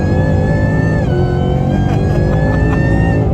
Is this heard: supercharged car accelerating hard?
yes